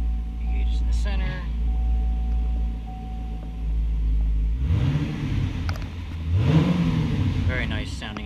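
A 2010 Chevy Camaro SS with a V8 and six-speed manual idles with a deep exhaust rumble, then revs twice in quick swells that rise and fall, with a voice talking over parts of it.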